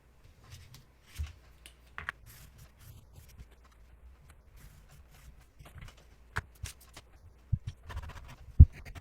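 Scissors snip through fabric pattern pieces in scattered, irregular cuts, with soft rustling of cloth and paper between sharper clicks, close and quiet with no talking.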